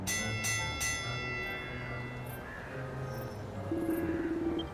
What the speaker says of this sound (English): they're gonna ring the bell